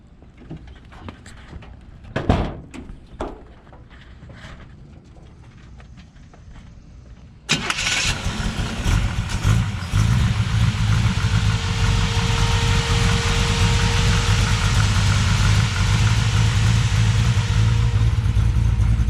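A 1965 Chevrolet Chevelle with a 383 V8 cranks after a few clicks and knocks, fires loudly around the middle, then settles into a steady, rumbling close idle that carries on to the end.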